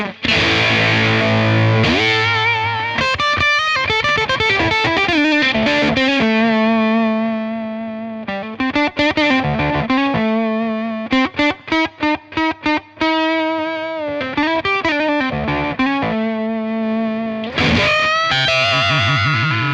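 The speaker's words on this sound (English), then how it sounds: "I'm really pushing the fuzz circuit here" Heavily fuzzed electric guitar through a Beetronics Octahive octave fuzz pedal pushed hard, with a buzzy, octave-doubled tone, playing sustained notes and short stabs with brief gaps, loud and saturated throughout.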